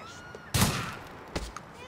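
Gunfire in the video game GTA 4 during a police scene: a loud close shot, then a second sharper report about a second later, over quiet background.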